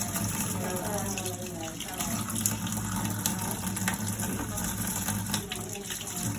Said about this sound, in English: give this nice scrubbing underneath the sink and get all the blood and guts off of it